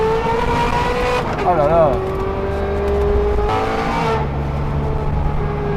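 A Smart Roadster Brabus Coupé accelerates hard, its engine climbing and dropping through rapid, instant gear shifts. The sound is loud and close, with a man's exclamation over it.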